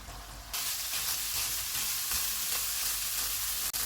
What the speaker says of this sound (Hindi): चूल्हे को मीडियम टू हाई कर देते हैं और इसको ऑयल अलग होने तक भून लेंगे।